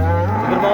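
A cow moos close by at a livestock market, one sustained low lowing call that rises slightly in pitch toward its end, loud and alone with no talk.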